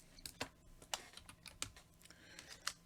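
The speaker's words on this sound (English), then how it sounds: "Let's type that into Desmos and see what we get." Soft, irregular clicks of a computer keyboard as a sum of grades is typed into the Desmos calculator, with faint individual keystrokes spread unevenly over a few seconds in a quiet room.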